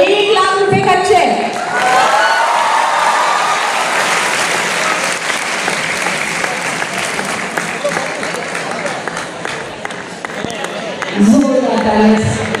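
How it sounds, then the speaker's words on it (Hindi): Loud, sustained audience applause greets prize winners at a national quiz competition in Patna, filling the hall for several seconds with a few voices and cheers mixed in before an announcer's voice returns near the end. "जोरदार तालियां"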